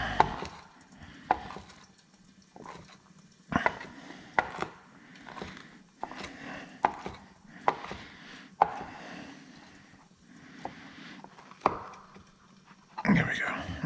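A knife chops rubbery bacon fat into small pieces on a board, about a dozen sharp, firm thuds at an uneven rhythm, close and clear with quiet gaps between strikes.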